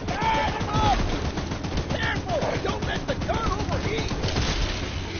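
Rapid gunfire from a mounted gun in Choo Choo Charles, a loud, steady stream of shots throughout, with excited voices shouting over it.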